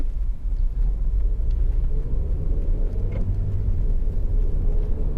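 A 2008 Honda Civic 1.8 i-VTEC EX with i-Shift gearbox slows down, its engine a steady low rumble from inside the cabin that dips slightly as it decelerates, with no talk.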